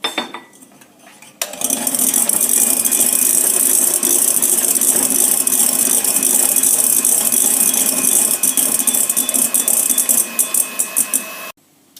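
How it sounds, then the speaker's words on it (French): An electric mixer whisks egg whites with fine sugar and lemon juice for a lemon soufflé, giving a loud, steady whirring rattle of beaters against the bowl that starts after a quiet second and stops abruptly near the end. "j'y rajoute mon sucre fin, le restant, ainsi que le jus de citron. Et je refouette."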